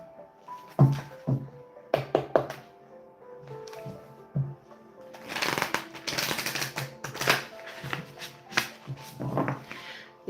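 Tarot cards are handled and shuffled during a live psychic reading, giving close, irregular bursts of riffling and slapping card sounds separated by brief quiet gaps.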